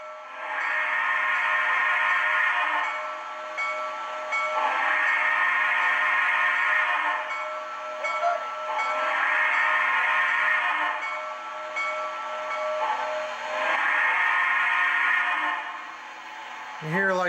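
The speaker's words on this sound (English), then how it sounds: "Whistle." An MTH HO Baldwin Yellowstone 2-8-8-4 model steam locomotive with Proto Sound blows its chime whistle in four long, loud blasts separated by short gaps, heard close and on its own.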